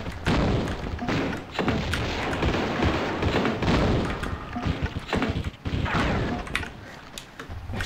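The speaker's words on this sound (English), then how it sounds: "Let me use that grenade launcher on him." Grenade launcher shots in a video game land on an enemy as a run of heavy booming thuds and crashing impacts, repeated and irregular across the stretch, loud and dense, with no speech.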